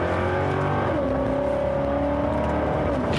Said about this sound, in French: Ça, c'est une belle attaque de frein, encore une fois.